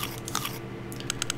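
Crunchy bites of pizza being eaten in the video game Forsaken Isle, a few sharp chewing crunches spaced across a short stretch over a steady low background hum.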